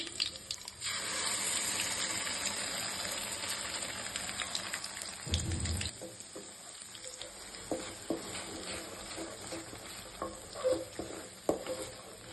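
Ground masala paste with green chilli hits hot oil for a spicy mutton curry, giving a loud, steady hiss that runs through the clip, with stirring scrapes and bursts of sizzle; no one talks.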